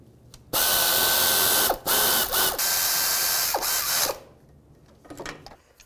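Ratchet tightening bolts on a 2010-2017 Chevy Equinox engine during variable valve timing sprocket work, a loud close whirring run of several seconds with two brief pauses, then quiet clicks and handling noises.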